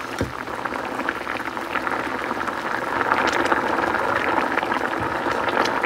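Taro pieces boiling in a pot of water, bubbling steadily and close, with a continuous rolling burble that grows slightly louder, and no voices.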